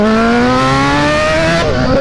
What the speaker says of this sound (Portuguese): Tá dando aquela esticada, a moto